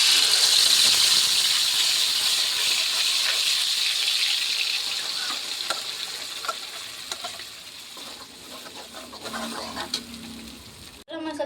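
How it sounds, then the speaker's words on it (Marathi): Ground spice masala with turmeric and salt hits hot oil for a Khandeshi cowpea-seed curry, giving a loud, steady frying sizzle that gradually softens, with light stirring scrapes toward the end and no talking. "तेल झालेलं आहे गरम। आता आपल्याला टाकायचा आहे मसाला।"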